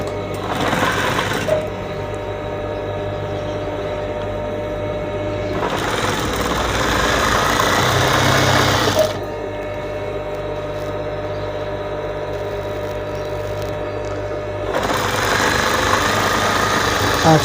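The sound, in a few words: sewing machine stitching window curtain fabric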